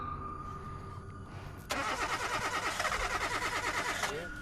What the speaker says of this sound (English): each time the woman attempts to start her car, it's still having trouble.